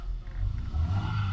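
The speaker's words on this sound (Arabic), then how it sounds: "نسمعكم صوت الثروتل كمان" Deep engine roar climbing as the throttle is blipped, a loud low rumble surging twice within a second or so.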